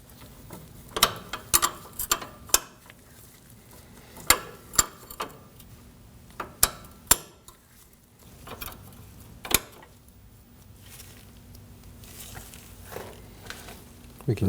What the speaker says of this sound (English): We can just snug this fitting down.